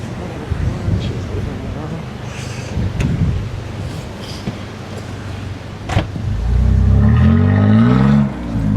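A brand-new truck on beach sand, its engine idling and then revving up loudly near the end as it pushes forward, with people talking over the motor.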